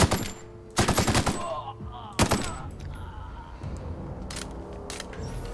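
Automatic gunfire in The Outer Worlds video game: two sharp rapid bursts of shots close together, then a single crack followed by a fading rumbling tail, with no talk.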